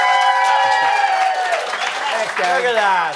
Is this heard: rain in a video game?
no